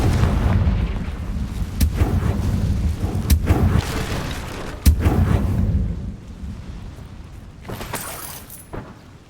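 A blasting fire spell from the Hogwarts Legacy video game goes off as a series of loud, deep booming explosions with sharp cracks, rumbling heavily before fading into a quieter tail.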